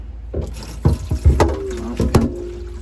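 A dirty water filter cartridge from a Bio Renew system is dunked into water, giving a few close splashes and sloshing knocks spaced irregularly over a couple of seconds.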